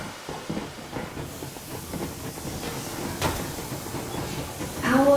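A steam train pulls away in the winter setting of the game Metro Exodus, a low rumbling chug and steady hiss building gradually, with brief clanks and a louder surge near the end.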